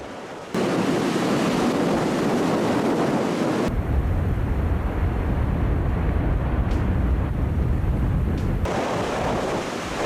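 Loud, constant roar of high waves and surf, with heavy wind buffeting the microphone throughout and no voices.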